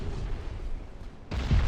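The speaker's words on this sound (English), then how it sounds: "Begona will take a torpedo" A torpedo striking the ship Begona in the naval game Ultimate Admiral: Dreadnoughts, a low rumbling background of distant fire and then a sudden heavy boom near the end.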